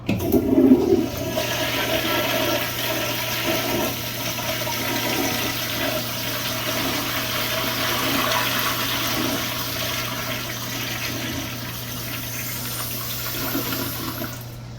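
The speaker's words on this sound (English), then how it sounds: "Speaking of flush, let's see one flush now." A 3rd-generation Crane Santon/Saneto straight-down-flushing toilet from the 1960s to 1990s flushes with a loud initial rush, then a steady roaring wash of water that continues evenly for many seconds, no voices.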